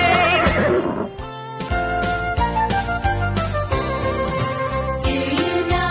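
A horse neighs amid a bouncy, upbeat children's zoo animal song, the whinny blending with a loud, busy tune throughout.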